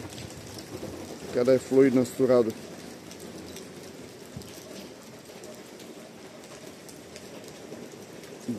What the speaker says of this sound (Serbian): Dakle, noć, kiša, jako teški uslovi.